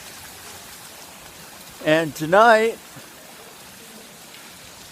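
Steady soft rain falling outdoors during a walk, an even hiss throughout, with a brief spoken phrase in the middle.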